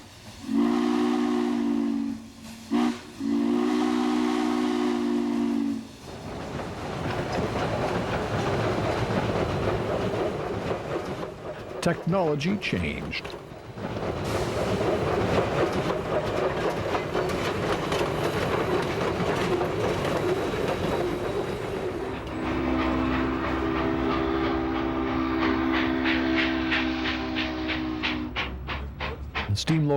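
A steam locomotive sounds two loud whistle blasts, then the train rumbles and clatters past up close, with a further long whistle near the end. A narrator speaks briefly over it.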